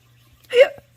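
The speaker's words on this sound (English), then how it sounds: "little ones give me the hiccups" A single sharp hiccup from a person sitting indoors, one short loud catch of breath in otherwise quiet surroundings with a faint steady hum.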